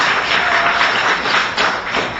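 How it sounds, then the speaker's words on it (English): A 9 a.m. committee meeting audience breaks into loud, close applause: dense overlapping claps with a few sharper hits, sustained throughout with no talking. "I rarely get an applause at 9 o'clock"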